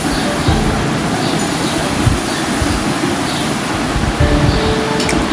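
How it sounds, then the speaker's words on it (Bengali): A little water goes into hot oil and spices in a pan, raising a loud, dense, continuous sizzling hiss that stays even from start to end. "দিয়ে দিলাম সামান্য পরিমাণে একটু পানি"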